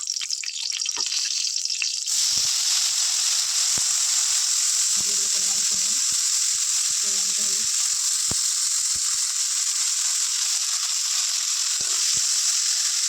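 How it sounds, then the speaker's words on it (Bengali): Eggplant slices frying in hot oil in a wok, giving a steady, loud sizzle throughout, with a few faint clinks and brief murmurs of voice in the background. "এবার কড়াই আর একটু তেল দিয়ে দেবো"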